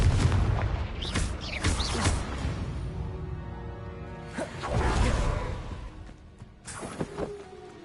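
Confringo fire spell from Hogwarts Legacy gameplay: several booming blasts with whooshing streaks and rumbling impacts, loud and close among other game effects.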